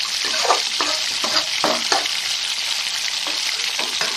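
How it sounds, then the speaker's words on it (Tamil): Onions sauté with salt in hot oil in a pan, a steady close sizzle and crackle with repeated scraping stirs of a spoon through the pan. "வெங்காயம் வதங்கிடுச்சு"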